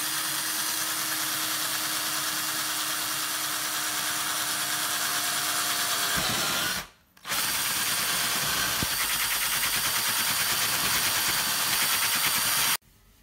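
A power drill bores holes through boxes for housing praying mantises, whirring loudly and continuously up close with a brief stop midway, then running again before cutting off.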